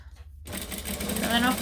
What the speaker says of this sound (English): I'm just going to chain stitch this one in.